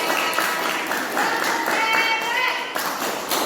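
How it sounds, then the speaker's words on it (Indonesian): Classmates applauding in a school classroom, a fairly close smattering of hand claps from a small group with voices talking alongside. "berikan tepuk tangan untuk teman-teman saya"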